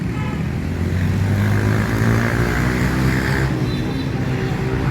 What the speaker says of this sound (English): In this particular part, you hear the sound of the traffic